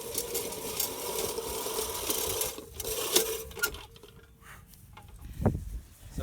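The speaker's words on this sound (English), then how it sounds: "So we got ourselves a sweet reel mower" A reel mower cuts spring grass in a rented homestead garden with a continuous whirring, clattering chatter. It is fairly close and steady, dipping a little near the end, with no talking.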